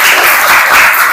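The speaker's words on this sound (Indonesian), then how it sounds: "tepuk tangan untuk Rafa sama Anggi." A brief burst of loud, close classroom applause, dense steady clapping with no talking over it.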